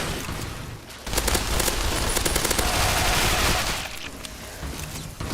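Sustained automatic gunfire aimed at an Albino Red Scorpion in Fallout 3, a dense rattling burst that runs loud for about two and a half seconds before fading to quieter scattered shots.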